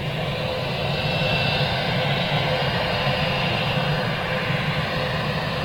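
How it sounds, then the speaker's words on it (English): A Lufthansa airliner departs Manchester Airport, its jet engines a loud, steady, broadband roar that holds constant throughout with no talk. "Lufthansa 941 was the one that literally just departed in front of you"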